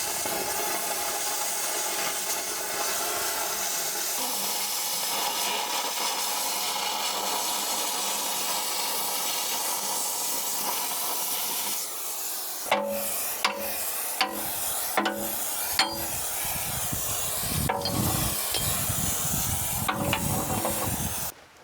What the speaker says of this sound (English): we're grinding down where that weld was at right here